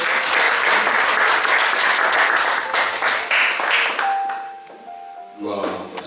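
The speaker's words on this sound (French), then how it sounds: "nous applaudissons pour notre Seigneur" A church congregation applauds during a French worship service, with dense clapping that tapers off toward the end as a sustained tone and some voices come through.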